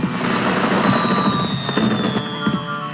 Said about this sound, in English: arrived at the carnival as the fireworks began